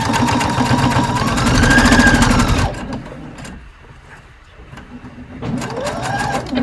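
A sewing machine stitches along a small hem on a top, its rapid, even needle rattle running loud and close for a few seconds, pausing into near quiet, then starting up again.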